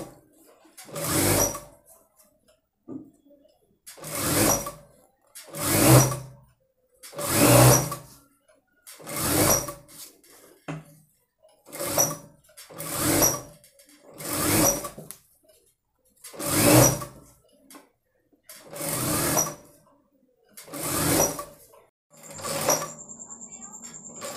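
A sewing machine stitches thread piping onto a blouse neck in around a dozen short, steady bursts separated by brief pauses, close and clear, with a soft click near the end.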